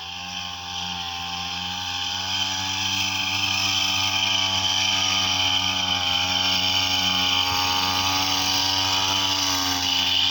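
An engine runs steadily nearby, a loud, continuous droning hum with a strong, even tone that holds without pause throughout.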